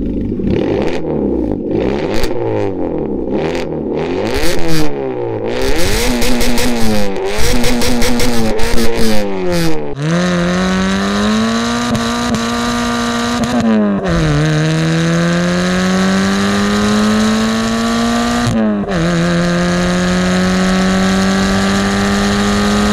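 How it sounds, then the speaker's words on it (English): A Citroën C2 engine revs hard with a rally-style sound, its pitch sweeping up and down in aggressive bursts before settling into a loud, steady high idle, close by. "it's got an aggressive sound to it, hasn't it? Proper like rally car kind of sound."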